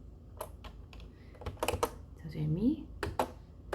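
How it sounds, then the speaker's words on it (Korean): Close-up clacking on a computer keyboard during a Korean grammar lecture comes in quick irregular bursts, mixed with a teacher's speaking voice. "선생님이 지금 이 키보드를 처음 쓰는 거예요"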